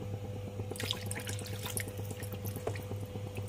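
Water pours and splashes into a cooking pot of beef gulai close by, over a steady low mechanical hum, with scattered drips and trickles.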